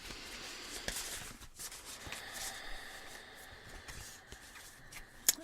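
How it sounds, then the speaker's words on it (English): A Wild Offerings oracle card deck shuffled by hand, giving soft, quiet rubbing and riffling that runs steadily for several seconds, with a brief pause partway through and a small sharp tap near the end. "I'm pulling from the Wild Offerings deck of Tasha Silver. So I'll just give a little shuffle right here."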